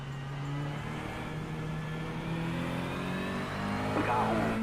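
A race car engine drones steadily out on the track, close and loud, its pitch sweeping sharply upward near the end as it revs harder.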